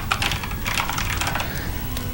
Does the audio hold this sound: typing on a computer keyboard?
yes